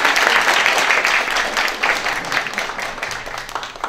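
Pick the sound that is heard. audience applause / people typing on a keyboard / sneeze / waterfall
audience applause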